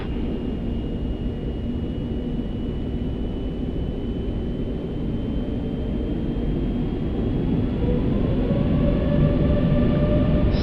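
Airbus A380 engines roar during a night takeoff roll, a steady deep rumble with a thin rising whine building gradually louder over about ten seconds.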